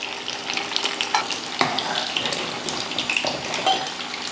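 A pot of radish sambar bubbles on the stove with a busy, crackling simmer and scattered sharp pops and clinks, moderately close and steady throughout, with no talking.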